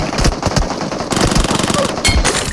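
Sustained automatic gunfire in PUBG Mobile, loud and close, with rapid shots running almost without pause across the whole stretch.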